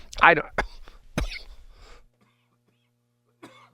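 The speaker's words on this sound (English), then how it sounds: "I got a cough there" A couple of harsh, close coughs, followed by throat noise, then silence and a faint breath.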